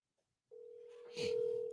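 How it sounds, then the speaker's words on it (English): An old-school phone dials out for a call, a steady single tone starting after a short silence, then a brighter tone layered on top near the end, close and clear with no talk. "I'm making a phone call."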